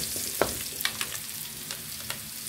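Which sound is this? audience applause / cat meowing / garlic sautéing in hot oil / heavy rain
garlic sautéing in hot oil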